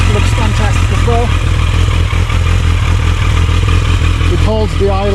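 A restored Yamaha XJ650 Turbo motorcycle idles steadily just over 1000 RPM, a close, even low rumble running throughout while someone talks over it.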